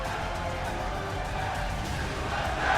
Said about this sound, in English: You can hear just how happy the crowd are about it.